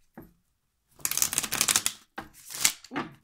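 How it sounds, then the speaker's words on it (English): Tarot cards being shuffled in several quick riffled bursts, crisp papery flutters separated by short pauses, close and clear with no talking. "Let's get one more shuffle."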